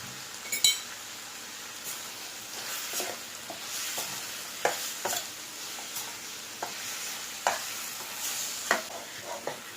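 Liver sautéing with curry masala powder in a pan sizzles steadily while a spatula scrapes and clinks against the metal in irregular strokes throughout, close and fairly quiet, with no voices.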